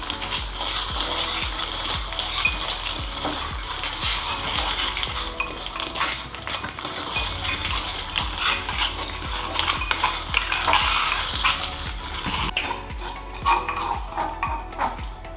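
Skittles and gummy candy are stirred with chili powder in a bowl, making continuous scraping and clinking of a utensil against the bowl, close and busy, with uneven bursts of rattling and no talking.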